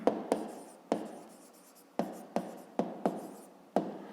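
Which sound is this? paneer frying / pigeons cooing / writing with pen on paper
writing with pen on paper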